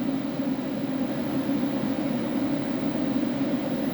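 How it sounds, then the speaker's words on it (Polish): Cooling fans humming steadily in an off-grid solar power setup with a SolarEdge inverter charging batteries, a constant broadband whir with a low tonal drone, close and even throughout with no talk. "Słychać jak wentylatory chodzą."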